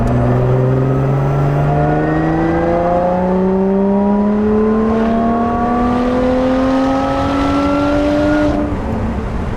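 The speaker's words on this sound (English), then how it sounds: "when you're gently on the throttle, you can hear it pulling the air in." A Lotus Evora 400 sports car engine rises steadily in pitch under gentle throttle, a loud, smooth drone with a breathy whoosh of air being drawn in.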